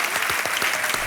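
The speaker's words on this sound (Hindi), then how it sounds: "ओके, एक बार फिर तालियों के साथ अभिनंदन" A studio audience on the quiz show Kaun Banega Crorepati claps in steady unison, a brief dense burst of applause heard up close.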